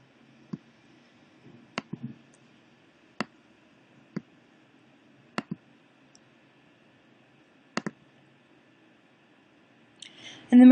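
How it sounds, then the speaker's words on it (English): Sparse computer mouse clicks while working in an Excel spreadsheet, about eight sharp single clicks spread irregularly over quiet room tone, with a brief voice right at the end. "click the auto sum button"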